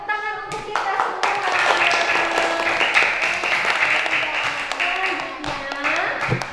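A primary school class breaks into sustained, dense applause of many small hands clapping for several seconds, with a voice speaking over the start and end.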